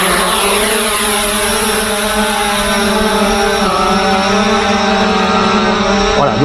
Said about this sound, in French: Alors un décollage automatique pour le Upsan Zino.